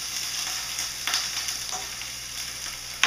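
Vidalia onion and smoked andouille sausage sizzle in an oiled skillet, a steady bright hiss of frying with a few stir clicks and a sharper pop at the end, no one talking.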